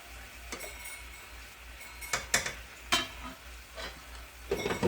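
Meatball spaghetti sauce simmering in a pot gives a steady low bubbling hiss, broken by a few sharp clinks and scrapes of a utensil against the pot, with no talking.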